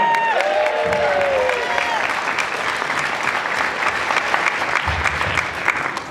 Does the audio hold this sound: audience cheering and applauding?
yes